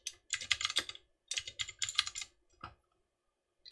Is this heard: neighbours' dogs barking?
no